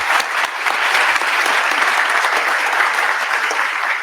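An audience at the closing session of an academic education event gives a loud, steady round of applause, dense clapping that carries evenly from start to finish.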